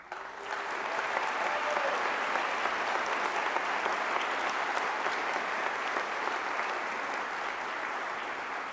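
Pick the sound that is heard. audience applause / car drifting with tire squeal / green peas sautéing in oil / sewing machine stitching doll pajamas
audience applause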